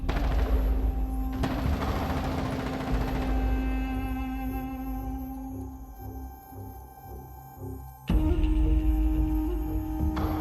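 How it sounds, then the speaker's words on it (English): Bursts of rapid gunfire and loud blasts in the game Project Zomboid, with a mechanical hum underneath, easing off midway before a sharp loud burst returns. "the crashing sound of gunfire roll through the shattered window"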